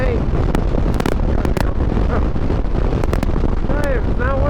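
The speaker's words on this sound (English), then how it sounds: "it's not a nice wind, it's a cold wind" Cold wind roars steadily and loudly across the microphone while riding through Kansas, a dense buffeting rush that never lets up, with a few brief sharper gusts and knocks.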